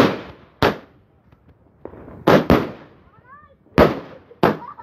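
New Year fireworks go off over a village in Kardzhali, Bulgaria, in sharp, loud separate bangs, some in quick pairs, with fading crackle between them. Voices murmur faintly in the background.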